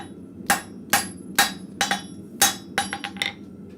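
Blacksmith at the forge hammering a steel bar to knock down a shoulder, ringing close blows at a steady pace that quicken into a brief flurry of lighter taps near the end, no speech.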